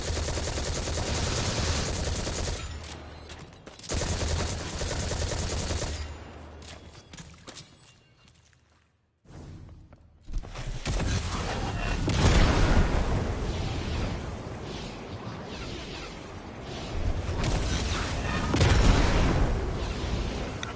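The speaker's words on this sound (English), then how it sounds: "Well, I'm sitting here just shooting him." Heavy rapid gunfire at an enemy in Destiny 2's Festival of the Lost, with booming impacts in long loud bursts, a near-silent pause midway, then the shooting resumes even louder.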